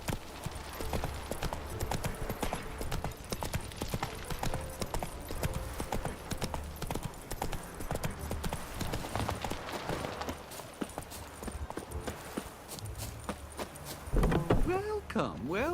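Horse hooves clip-clop in a steady galloping rhythm in The Witcher 3, continuous and close, with a brief burst of other game sounds near the end.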